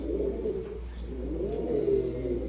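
Seductor pigeons at a fancier's club coo steadily in low, rolling, overlapping calls that continue for the whole stretch, close by, with no talk.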